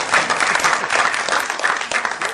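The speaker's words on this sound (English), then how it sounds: "Now, I thought this wise answer will have a clap." A crowd at a film trailer launch for Sholay in 3D claps in a short, dense burst of applause that stays even and loud for a couple of seconds.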